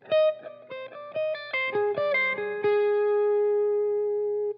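A short overdriven electric guitar phrase, quick plucked notes ending on a held note that sustains and rings out.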